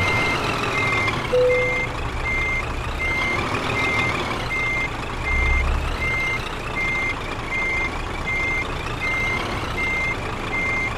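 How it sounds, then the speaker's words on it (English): A Scania truck in Euro Truck Simulator 2 reverses with a steady series of evenly spaced electronic beeps over a constant engine drone, heard clearly and without talk. "this way you get to see the beautiful Scania truck going by."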